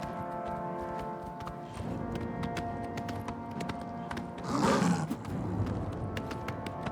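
A mountain lion growls in pursuit in the video game The Elder Scrolls IV: Oblivion, a harsh roar swelling briefly mid-clip over steady galloping hoof clatter and low game ambience.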